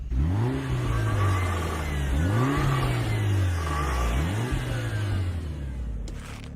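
A Mitsubishi Evo 4 engine revving in an anime street-racing scene, loud and close, climbing in three repeated sweeping rises over a steady droning engine bed.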